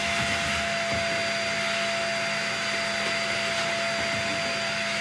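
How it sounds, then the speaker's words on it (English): A vacuum cleaner running loudly and steadily as it sucks caked ash out of a wood pellet stove, a constant whine with a sharp tonal hum throughout. "Take your vacuum."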